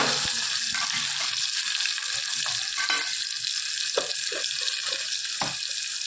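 Onion, green chili, garlic and tomato frying in a mix of ghee and oil, a steady close hiss and sizzle with occasional soft clinks and pops, no talking.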